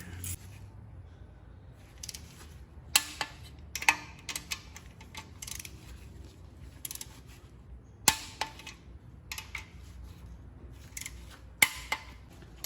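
Oil pan bolts on a 2019 Kia Sportage 2.4 are run down tight, giving quiet, scattered metallic ratchet clicks and sharp ticks in irregular bursts against a low, faint background.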